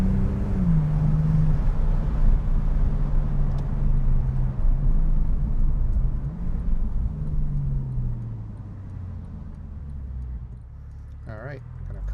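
A 2010 Porsche 911 Turbo with all-wheel drive runs through S-bends, its engine droning low and steady with a shifting pitch that gradually eases off, while someone talks over it.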